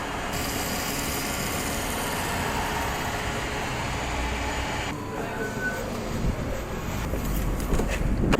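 Wind blows outdoors, making a constant broadband roar with low, gusty rumbling that swells slightly toward the end.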